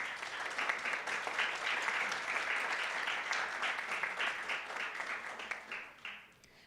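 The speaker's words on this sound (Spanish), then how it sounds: "Ahora me doy la oportunidad para un aplauso para él, por favor." An audience at an academic talk on fiscal policy applauds a speaker, a dense, sustained clapping at even strength that fades out over the last second.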